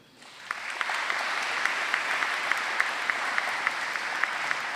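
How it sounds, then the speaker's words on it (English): Audience applause at a 2024 graduation ceremony, a steady dense clapping that swells in after a quiet first half second and holds evenly, with a few sharper individual claps standing out. "let's give him a round of applause nonetheless"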